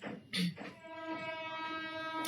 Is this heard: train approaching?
yes